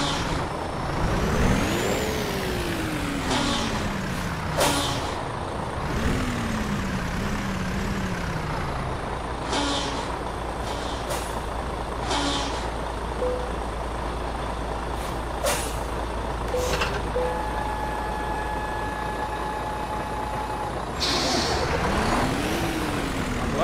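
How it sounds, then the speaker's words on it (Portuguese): A heavy 44-tonne grain bitrain truck in a driving game sits and rolls on a hill. A rumbling engine idles under repeated sharp air-brake hisses and rising and falling engine revs. "O caminhão sozinho vai embora, ó."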